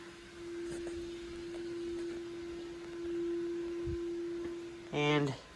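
A house's central vacuum system motor runs in the distance, a faint, steady low hum that persists throughout, with a brief voice near the end.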